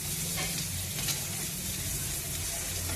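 Onions and green chilies fry in a pan, giving a steady, fairly soft, close sizzling hiss that stays even throughout without speech.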